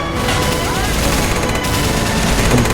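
Artillery support firing in the war game The Toy War, heard as a loud, continuous wash of overlapping booms and gunfire without clear gaps.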